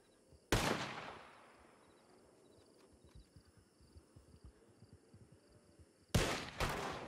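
Two sharp gunshots ring out in Red Dead Redemption 2, one early and one near the end, each with a long echoing tail over a quiet outdoor backdrop with faint rustling.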